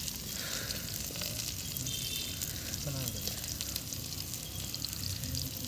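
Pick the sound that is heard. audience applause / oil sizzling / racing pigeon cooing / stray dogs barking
oil sizzling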